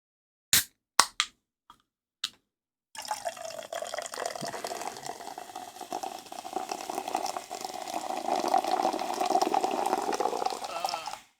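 Fever Tree tonic poured slowly from a tiny can, a few sharp clicks and taps first, then a soft continuous trickle and fizz that slowly grows louder toward the end, close up and with no talk.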